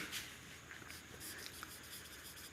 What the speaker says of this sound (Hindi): तो आप यहाँ पर लिखेंगे